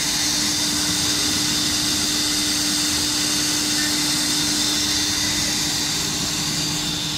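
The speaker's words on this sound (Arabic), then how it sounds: "المكنه دي يا جماعه مكنه راوتر" A two-head CNC wood router running at a woodworking machinery exhibition, a steady loud whine with a constant drone and no breaks, no talking heard.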